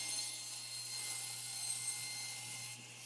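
A saw cutting through a piece of wood on a crosscut sled, a steady bright whirring rasp held at an even level for about three seconds with no talking.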